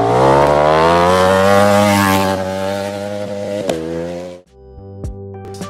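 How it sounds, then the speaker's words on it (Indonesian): A Ducati motorcycle engine with desmodromic valves revs hard and high, a loud sustained wail that drops off near the end, followed by a few short blips of the throttle. "motor dari pabrikan ini bisa melakukan revving begitu tinggi"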